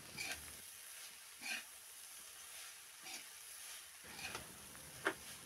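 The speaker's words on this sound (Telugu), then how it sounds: "ఆ రైస్ మీద పోసుకొని ఇప్పుడు అన్నీ కలిసేటట్టు బాగా కలుపుకోవాలండి" Egg fried rice with soy sauce is stirred in a pan, giving a faint steady sizzle with a few soft scraping strokes of the spoon at irregular intervals and no talk.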